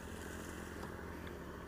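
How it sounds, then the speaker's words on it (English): A motorcycle rumbles past with a steady engine drone, faint and somewhat distant over a noisy background. "Take that motorcycle somewhere else."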